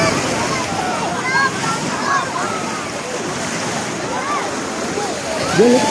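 Loud surf crashes steadily under strong wind roaring across the microphone at a crowded beach in Bitoon, with faint distant voices and cries of swimmers drifting through the noise.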